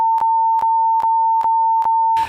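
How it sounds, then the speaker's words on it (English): A steady, loud censor beep tone runs continuously for about two seconds, broken by several brief regular clicks and ending in a short burst of noise. "You definitely made that beep longer than you needed to."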